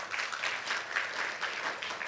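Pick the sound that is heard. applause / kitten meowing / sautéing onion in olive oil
applause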